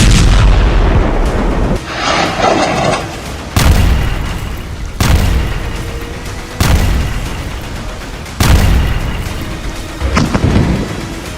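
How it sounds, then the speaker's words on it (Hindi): Israeli air strikes on buildings in Gaza set off a series of loud, deep bomb blasts, about six heavy booms at irregular intervals, each rolling out over a constant rushing background. "इजरायल के तूफानी हवाई हमलों में बमों के धमाके ऐसे इमारतों को उड़ा रहे हैं"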